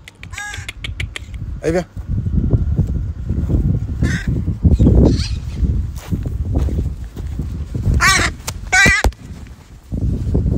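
A rescued crow at a colony gives several loud, harsh caws in short bursts, while a person nearby calls to it and footsteps shuffle close underneath.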